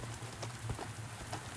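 Rain in the video game Shift 87 falls as a steady, soft hiss with scattered drop patter, even and continuous throughout.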